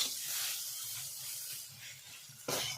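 Fried gima greens tossed into a hot pan for a fish-head greens curry, giving a steady broad frying sizzle throughout, close and moderately loud, with a sharper burst of hiss near the end as the greens are stirred.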